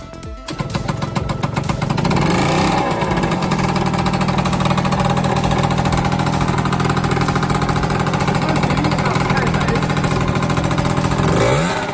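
A Piaggio NRG MC3 scooter's small engine sputters into life and then revs steadily and loudly, holding a buzzing drone for several seconds before it drops off near the end.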